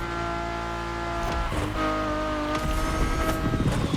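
A Ferrari supercar engine in The Crew Motorfest roars steadily at close range, its harmonic drone shifting in pitch with some tonal rises, heard alone without talk and echoing as if inside a tunnel.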